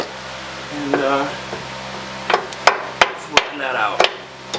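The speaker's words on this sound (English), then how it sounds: "And then I'm just gonna take the hammer" Sharp metallic hammer blows ring out on a Honda Accord upper control arm, about six spaced strikes up close, mixed with brief shuffling and workshop noise.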